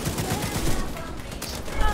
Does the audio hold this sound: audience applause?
no